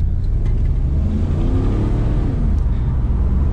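A Holden VS 5-litre V8 engine, stock apart from aftermarket exhaust and extractors, rumbles deeply and climbs in a rev before settling back, loud and close, with no speech.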